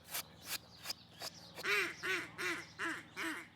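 A handheld duck call blown to imitate a hen mallard's cadence, a few sharp separate quacks followed by a descending run of five rhythmic nasal quacks, close and clear.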